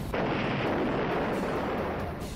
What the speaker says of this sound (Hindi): रूस की सेना का जबरदस्त धमाका।